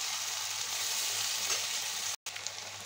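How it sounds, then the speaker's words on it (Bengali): Potato and pointed gourd sear with spice paste in a hot pan, giving a steady, even sizzle and hiss throughout, briefly cutting out for a moment near the end before resuming. "এখন মশলাটা দিয়ে আলু পটলটা একটু কষিয়ে দেব।"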